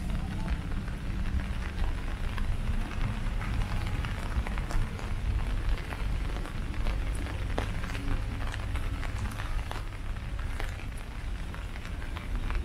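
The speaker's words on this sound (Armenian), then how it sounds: "Այ ումա հավես անձրևը, չէ։" Steady rain patters on a hard surface, a dense continuous hiss with scattered sharper drips, fairly close and with no talking.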